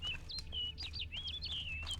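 A game bird in Witcher 3: Blood and Wine twitters in short, lively chirps and trilling tweets, fairly close, layered over a constant low ambient drone with no talking.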